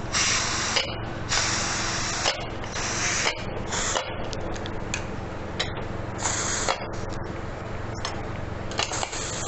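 Pressure cooker with chickpeas venting steam in loud, close bursts of hissing, starting and stopping in uneven pulses over a constant lower hiss.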